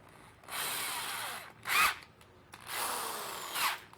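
A power drill whines in several bursts, running steadily for about a second at a time with short pauses between, close and fairly loud.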